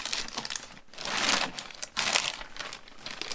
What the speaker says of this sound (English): So I'll just fold it all the way in,